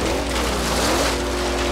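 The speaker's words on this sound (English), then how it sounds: "Give this thing a nice little test run here." A stock-engined 1990 Chevy Camaro in the racing game Forza Horizon 3 drones with a steady, loud engine tone on a brief test run, with no talk.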